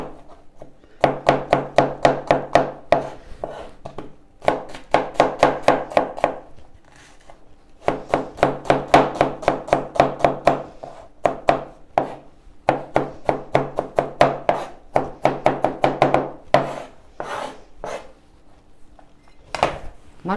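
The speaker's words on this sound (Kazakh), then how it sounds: "пиязымызды тураймыз" An onion is chopped on a wooden board with a knife in quick rhythmic bursts of sharp taps, separated by short pauses, close and crisp with no talking.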